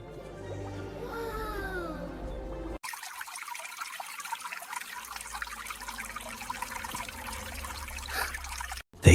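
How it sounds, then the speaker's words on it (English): In a kids' cartoon, a brief voice opens, then water trickles and gushes steadily for several seconds, close and fairly loud, like a stream or pouring flow. "They hear it, rushing water."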